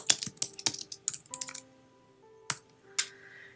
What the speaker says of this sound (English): And I'm just going to type the address in.